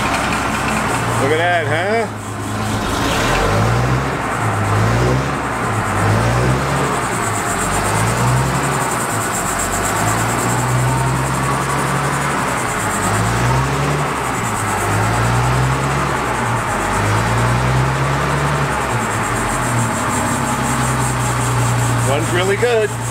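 A military vehicle engine idles steadily and close by with a low, pulsing rhythmic throb throughout, while someone briefly speaks over it.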